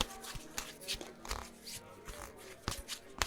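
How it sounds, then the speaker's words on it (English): A deck of playing cards being shuffled in a quiet ASMR setting, heard as soft, irregular riffling and papery flicks with brief sharper snaps, close and gentle, with no talking. "So I'm just going to shuffle these for a bit."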